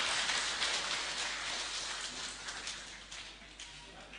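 A crowd applauds at an installation ceremony for the ABPEDNAS branch council of Lamongan regency. The clapping is dense and steady, a continuous patter that eases slightly toward the end.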